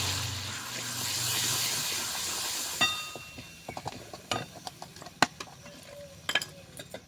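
Spices, cumin and coriander powder, fry with a little water in a pan. A steady steamy hiss fades after a few seconds and gives way to scattered clinks and scrapes of a spoon against the pan, with no talk.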